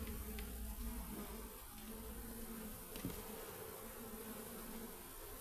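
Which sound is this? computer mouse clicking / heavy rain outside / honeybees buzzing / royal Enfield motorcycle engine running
honeybees buzzing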